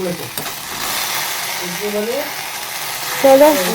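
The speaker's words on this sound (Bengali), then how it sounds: "অলমোস্ট নাড়ানো হয়ে গেছে এক দু সেকেন্ড নাড়ালেই হয়ে যাবে" Spices and turmeric being stirred in a frying pan, a steady sizzling scrape of the spoon running throughout, with short bursts of voices cutting in near the start and end.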